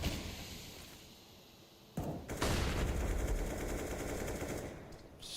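Gunfire in Counter-Strike: a quiet stretch, then a sudden burst of rapid automatic shots that keeps rattling on for several seconds, moderately loud and slightly distant.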